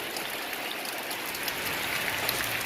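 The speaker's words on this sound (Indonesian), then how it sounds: "maka jatuhlah air hujan ini ke permukaan bumi semacam ini ya" Steady rain falling onto the ground, a continuous dense hiss with no pauses, moderately loud and even throughout with no voices.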